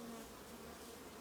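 Bees crowd the edge of a beehive, giving off a dense, steady buzzing drone that is soft but unbroken, with no one talking.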